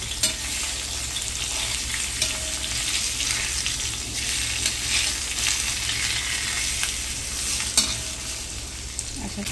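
Pomfret fish, lightly coated in semolina, fries in a hot pan and is turned over, giving a steady, close sizzle with a few soft clicks and scrapes throughout.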